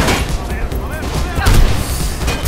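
Gunfire from the first-person parkour game Mirror's Edge, dense overlapping shots and booms rattling continuously over a loud in-game mix, with a voice also present.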